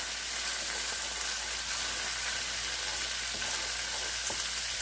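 Shepherd's pie filling stirred in a hot pan, with a loud, constant sizzle and faint scraping nearby.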